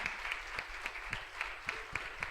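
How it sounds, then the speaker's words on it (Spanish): Church congregation giving a loud round of applause during a Spanish-language service, with sustained crowd clapping punctuated by sharper, regular claps that stand out from the wash. "Pues vamos a darle un fuerte aplauso entonces al Señor Jesucristo."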